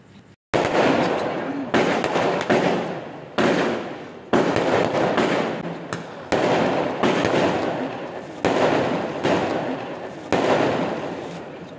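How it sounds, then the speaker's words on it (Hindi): Fireworks at a wedding night celebration burst loudly in a series of sharp cracks and crackling volleys, each blast followed by a brief decaying rumble, repeating roughly every second or two. "वापसी में थोड़ा फायरवर्क्स हुए थे। फायरवर्क्स बहुत ज़बरदस्त हुए थे"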